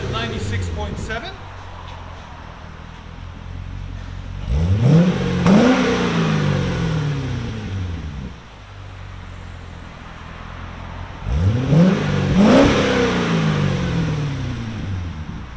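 Up close, a 2008 Chevy Corvette LS3 V8 with 14-inch Magnaflow mufflers and an X pipe idles deeply and is blipped in two bursts of quick, loud revs several seconds apart, each one dropping back to idle.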